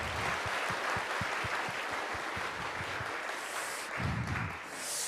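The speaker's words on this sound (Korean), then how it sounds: "우리 하나님 앞에 한 번 더 영광의 박수 돌리겠습니다" Applause from a congregation during a church service, a dense steady wash of clapping that holds through the whole stretch with no talk over it.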